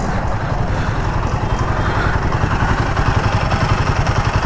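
Royal Enfield Himalayan 450 motorcycle engine idling steadily up close on a stopped bike, a continuous low throbbing rumble with light mechanical clatter and no talk.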